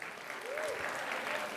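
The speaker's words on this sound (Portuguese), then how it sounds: "Pode aplaudir o Senhor." Steady applause from a church congregation at a conference fills the space, a dense even wash of clapping with a faint tonal whistle rising briefly in the middle.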